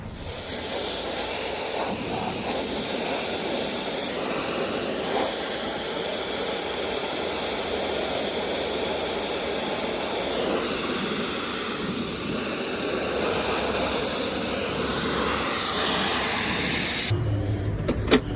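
Farm tractor engine with AdBlue emissions system running steadily nearby, a continuous broadband rumble and hiss that holds at a constant level for about seventeen seconds before cutting off abruptly.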